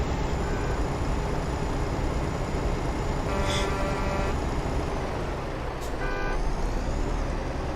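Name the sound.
vehicles beeping and honking in American Truck Simulator video game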